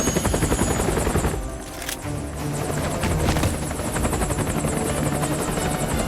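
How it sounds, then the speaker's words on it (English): A Hind attack helicopter in the video game Metal Gear Solid: Peace Walker, its rotor chopping loud and constant with a rapid, throbbing pulse and a whining engine, filling the whole stretch without talk. "We've got to go fight a helicopter that's going to make its own brand of noise."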